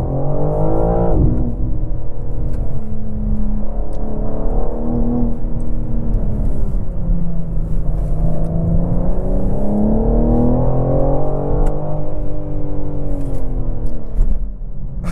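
A 2024 BMW M4 xDrive Competition pulls hard along a back road, its engine droning loud and steady from inside the cabin as revs climb and dip through gear changes, with no talking.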